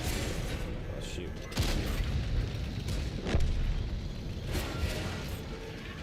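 Tank cannon shots in World of Tanks on console: booming blasts near 1.6 and 3.4 seconds, with a softer one around 4.7 seconds, over steady engine rumble and battle noise. Voices talk underneath.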